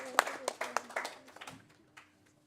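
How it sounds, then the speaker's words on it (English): A few scattered claps from a small hackathon audience applauding presenters, mixed with brief voices, starting fairly loud and thinning out into quiet after about a second and a half. "So extra round of applause for Anne and Ryan for fixing this morning."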